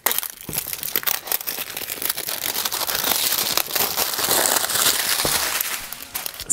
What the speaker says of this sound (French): Ça fait du bruit, hein. Vous inquiétez pas, je range les papiers après.